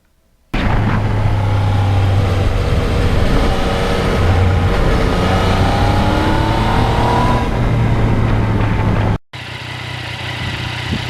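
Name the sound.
Yamaha MT-09 2020 motorcycle riding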